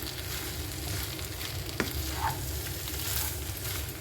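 Spicy chicken in thick masala being mixed in a pan, heard as a constant close sizzle and frying hiss with a single sharp scrape midway and soft stirring after, no speech.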